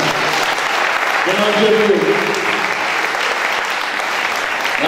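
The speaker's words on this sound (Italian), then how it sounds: "ci sta applauso al nonno" Applause from a cabaret audience for an elderly grandfather, a dense steady wash of clapping filling the room throughout, with a voice speaking briefly over it partway through.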